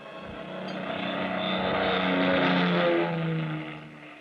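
A large airplane gliding down to land at night, rendered as a radio drama sound effect: a broad engine roar that swells gradually, peaks loudly in the middle, then eases off, heard alone without voices.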